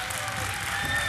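A quiz show studio audience applauds a contestant on Stigni me ako znaš, a brief, moderately loud wash of clapping with a faint voice passing beneath it.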